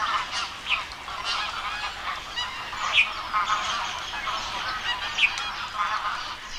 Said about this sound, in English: the marshes are bursting with the arrival of tens of thousands of waterfowl from Siberia, Mongolia,